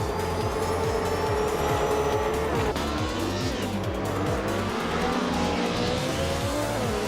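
Racing engines of a Panoz Esperante GTR1 and a Porsche roar continuously on Marina Bay Street Circuit in a racing video game, with layered revving harmonics shifting through gear changes and occasional tire squeal, loud and close throughout.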